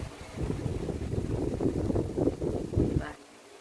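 Gusty wind buffets an outdoor camera microphone during a parcel unboxing, a steady low rumble and flutter for about three seconds before dropping off abruptly, with someone talking over it.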